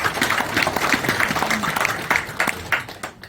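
At an inauguration ceremony and art exhibition for the Jangseong arts federation, an audience gives a round of applause, moderately loud irregular clapping that builds and fades over a few seconds.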